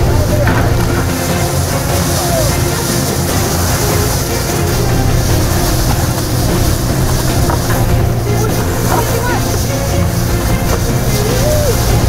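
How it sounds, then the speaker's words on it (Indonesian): A fishing boat at sea off Lampung revs hard as it speeds up to let out its net, a steady loud engine drone mixed with wind and water noise throughout. "Setelah itu, kapal pun dipacu kencang dan jaring mulai diulur."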